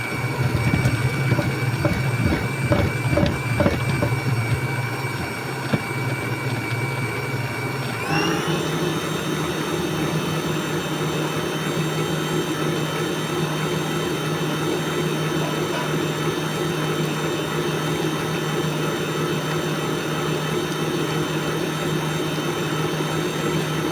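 A stand mixer whirs loudly and continuously while mixing almond cream in a cold kitchen, with a rhythmic beating at first, then a shift to a steadier, higher hum that runs on alone.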